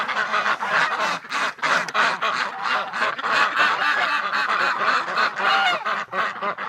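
Penned ducks crowd together on a winter morning, honking and quacking in a loud, dense, nonstop chorus close at hand.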